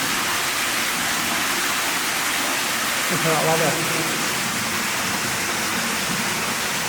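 Water rushes steadily through a deep underground tunnel in an old 1890s-era mine, a constant broadband roar like a small waterfall, with brief talk partway through.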